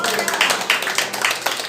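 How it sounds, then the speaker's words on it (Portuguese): Church congregation clapping along in a steady rhythmic pulse, bright, loud and close, filling the short moment with repeated hand claps. "pode aplaudir ao Senhor"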